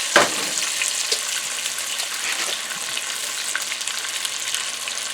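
Garlic frying in bacon grease for a bacon pierogi bake, with a steady, close hiss and crackle that runs throughout, a brief sharper pop near the start, and no talk.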